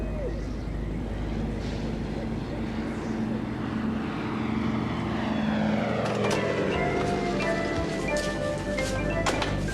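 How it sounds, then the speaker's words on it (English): A low-flying plane passes overhead, its droning engine loud and steady, rising in pitch and intensity toward the end as it nears. "This is a plane. The sound of it's flying low."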